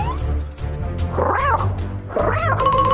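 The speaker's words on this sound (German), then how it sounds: "Kommt das Miauen aus dem Inneren des Schlangenbauchs?" A cartoon cat meows from inside a snake's belly, two drawn-out muffled wails a second apart over a steady background of music-like tones, fairly loud and close, no talking.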